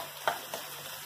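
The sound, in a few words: green chillies frying in the pan for egg curry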